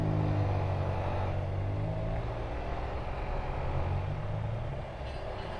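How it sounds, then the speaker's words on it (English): A Harley motorcycle's exhaust revving as it passes nearby on a Florida street, a loud, deep rumbling engine drone that holds strongly, then gradually fades, heard alone. "Sorry, I was distracted by that guy's exhaust."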